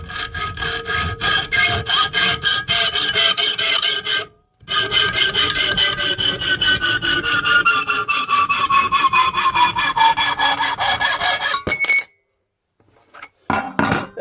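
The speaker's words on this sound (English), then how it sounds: "Now just hacksaw it out." A hacksaw cuts out a hidden-tang knife handle in quick, rhythmic back-and-forth rasping strokes, loud and close, with a brief pause early on and a gap near the end before a few final strokes.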